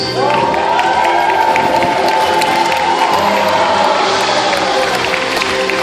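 A crowd at a dolphin show at a marine park on the Gold Coast, Australia, claps and cheers loudly and continuously, with children's shouts and whistles mixed into the steady roar.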